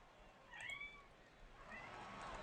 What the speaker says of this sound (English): And my cat is screaming at me.